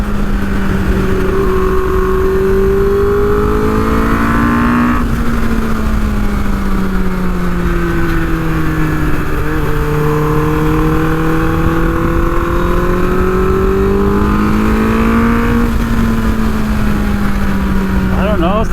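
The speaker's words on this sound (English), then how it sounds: "There's something pretty dang cool about riding a 30-plus-year-old motorcycle." A Suzuki GSX-R 750 Slingshot motorcycle over 30 years old runs on a track day, its loud engine droning steadily with pitch gently rising and falling under constant wind roar.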